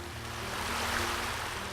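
Irrigation water rushes in a steady broadband wash, like a channel flowing at close range, with a low rumble underneath and no voices.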